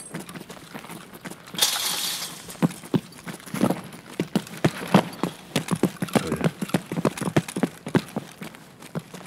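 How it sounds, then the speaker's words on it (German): A horse's hooves in the video game Escape From Tarkov clip-clop in a steady walking rhythm, crisp and close, with a short crashing burst near the start. "Achtung, das ist ein Pferd."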